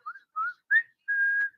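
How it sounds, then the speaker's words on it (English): A person whistles a short tune of four notes: three quick rising chirps, then a longer held tone, clear and close in near silence. "whistling."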